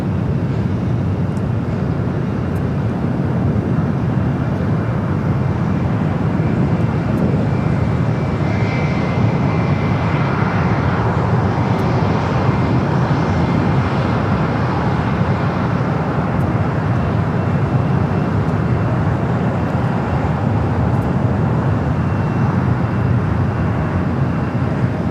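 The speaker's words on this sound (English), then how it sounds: "Got that Cayman Airways 737 MAX 8, heading to Georgetown, and next takeoff here on the south side" A Cayman Airways Boeing 737 MAX 8 airliner on takeoff at LAX gives a loud, sustained broadband jet roar that swells and holds throughout, heard alone with no talk.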